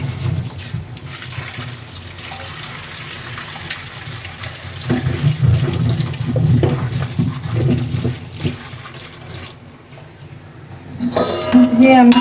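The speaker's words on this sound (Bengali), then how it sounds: "প্রথমে আমি কচুরমুখীগুলো ধুয়ে নিচ্ছি।" Taro roots being washed by hand in water in a village kitchen, with continuous splashing and sloshing, swirling water and occasional louder gushes toward the end.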